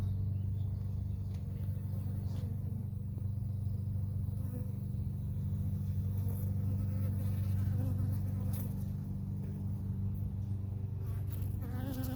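Honeybees buzz in a steady, continuous drone around a dead hive where a mated queen is being introduced, close and fairly loud with a low rumbling hum beneath and no speech.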